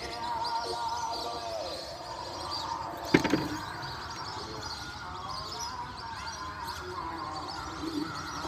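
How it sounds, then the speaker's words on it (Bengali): Thousands of birds chirping and twittering on a river, a dense steady chorus of small calls with a brief sharp knock partway through. "হাজার হাজার পাখি বসে আছে"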